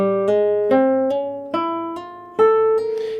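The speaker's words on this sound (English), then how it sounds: "we're going to be practicing the hammer-ons in their most common way, which is following a plucked note" Guitar notes sounded one after another, a plucked note then softer hammer-on notes that change pitch without new picking, clean and close with no talk.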